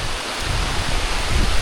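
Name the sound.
rain falling on Appalachian Trail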